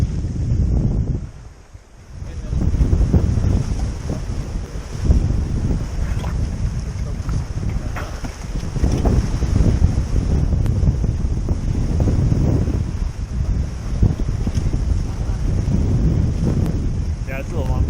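Aboard a Westsail 32 sailboat under main and headsail, strong wind rushes across the microphone over sloshing sea, a loud, continuous buffeting with a brief lull near the start.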